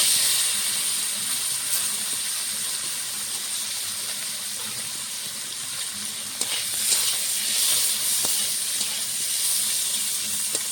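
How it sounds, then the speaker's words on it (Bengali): Taki fish fries in a little mustard oil in a wok, a steady close hiss of sizzling oil with occasional soft pops and faint clicks, and no voices over it. "ওখানে মাছটা ভাজা হচ্ছে"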